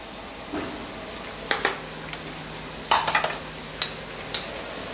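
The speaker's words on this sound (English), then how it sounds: "I'm going to add the spices, some haldi, some Kashmiri red chili" Haldi and Kashmiri red chili are stirred into a sizzling pan, with a steady fry under several sharp spoon-on-pan scrapes and clinks that come in short bursts.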